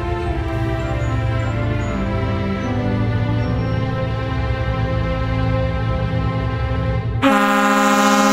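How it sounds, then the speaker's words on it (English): Air horns blaring from shore during a Christmas boat parade, one long sustained loud blast lasting about seven seconds, then a sharp shift to a second, brighter horn tone. "there's people honking from shore and everything"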